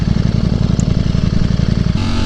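An Indian Challenger motorcycle runs close by, a loud, pulsing engine rumble with a steady rapid beat that shifts in tone near the end, heard alone without talk.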